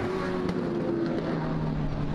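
Stock cars racing on the final lap of an ABC stock car heat at Springport Motor Speedway, a loud, steady engine roar with droning tones, close and continuous with no break.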